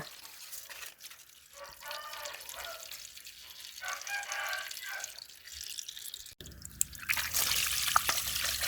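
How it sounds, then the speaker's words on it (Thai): Water trickles and drips steadily while salted fish is rinsed with clean water, growing into a louder running splash toward the end; faint voices murmur underneath. "หลังจากเขาล้างเกลือแล้วเขาก็ตามด้วยน้ำสะอาดจ้า"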